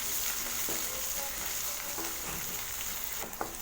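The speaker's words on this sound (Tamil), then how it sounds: "இஞ்சி வதங்கிருச்சு." Grated ginger and green chillies sauté in hot oil for curd semiya, giving a steady, close crackling sizzle that holds evenly throughout with a few faint clicks of stirring and no talking.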